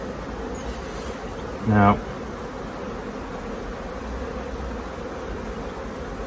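A dense, steady buzz of many honeybees fills the background, with one brief louder burst up close as a single word is spoken.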